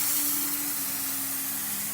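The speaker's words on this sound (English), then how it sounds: "Use the steamer" Steam wand on a freshly serviced La Pavoni lever espresso machine gives a continuous close hiss with a faint steady tone running through it, unbroken for about two seconds.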